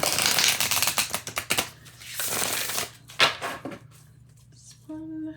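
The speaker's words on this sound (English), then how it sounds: "I'm gonna shuffle 3 times and then see what pops out in this card deck" A deck of cards riffled and shuffled repeatedly by hand up close, bursts of crisp fluttering and slapping in quick succession, with quiet pauses between and a faint tonal sound at the end.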